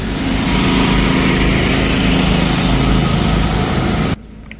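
Street generators drone on Derybasivska street in Odesa, a loud, constant engine hum filling the street without a break, then cutting abruptly near the end, leaving quieter background.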